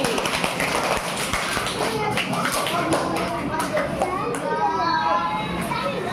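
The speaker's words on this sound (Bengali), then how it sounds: "জোরে হাততালি" A class of second-grade children claps loudly together in a classroom, with a busy mix of hand claps and children's voices throughout.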